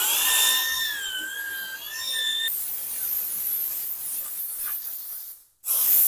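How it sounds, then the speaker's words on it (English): Compressed air from a tire gauge air blower hissing steadily and loudly for about five seconds while cleaning a trailer fender, cutting off briefly near the end before resuming; tonal whistling lines run through the first half. "It's what you call a tire gauge air blower."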